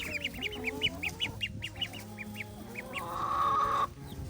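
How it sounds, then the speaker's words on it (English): Ducks quack in quick repeated bursts close by inside a pallet wood coop shared with chickens, the calls overlapping with softer fowl murmurs and a brief higher tone near the end. "What are you guys doing out here, little ducky duckies?"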